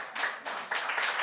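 Audience at a comedy show clapping in three quick bursts, a short rhythmic round of hand claps close by.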